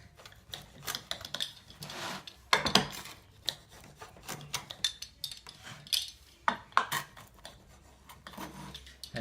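A thin-crust pepperoni pizza cooked on a backyard BBQ grill is sliced, with repeated rasping, scraping cuts and knocks of the cutter against the pan, close and fairly loud, in uneven strokes.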